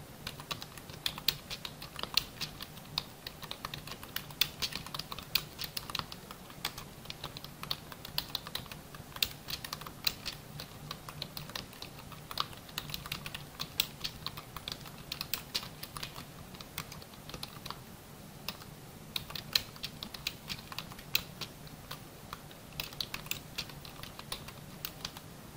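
Steady clicking of keys on a computer keyboard, fairly close and quiet, with an even run of small taps and no voices.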